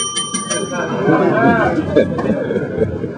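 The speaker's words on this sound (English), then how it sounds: "Ring that bell." A bell rings a few quick times at the start of a summit breakfast, then a crowd chatters loudly as the ringing fades under the voices.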